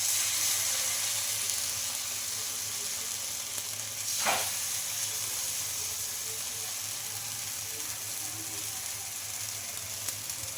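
Wheat flour and spinach dosa crisping on a hot pan, a soft continuous sizzle and hiss throughout with one brief scrape midway, quiet and without talk.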